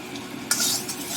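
Ground mustard and poppy seed paste with onion, tomato and green chilli fries in oil as it is stirred, giving a brief hiss and scrape that swells into a louder sizzle halfway through.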